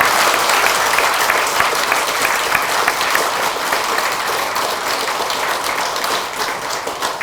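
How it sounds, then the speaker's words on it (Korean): Congregation at a Won Buddhist temple enshrinement ceremony in Jindo claps loudly and continuously, a thick, steady wall of applause that tapers slightly at the end. "모든 분들을 위해서 큰 박수 드리겠습니다"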